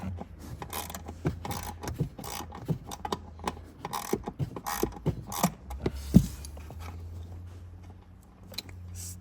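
A ratchet working a bolt on the airbag SRS module of an Acura MDX (2014–2020), rapid close clicking in uneven bursts with creaks and a sharp clack, then a quieter stretch.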